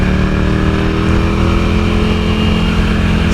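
Motorcycle ridden carefully in third gear on a wet road, its engine giving a loud, steady drone close by with no audible gear change and no talking.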